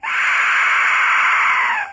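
A whistle designed to imitate a woman screaming at full force lets out a single loud, shrill, sustained shriek lasting about two seconds, heard on its own.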